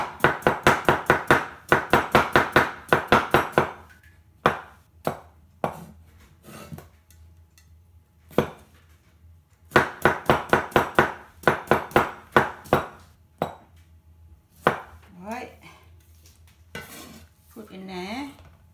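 A knife chops food for Thai egg salad on a board in rapid bursts of sharp, close knocks, broken by pauses and scattered single strikes, with faint clinks of utensils.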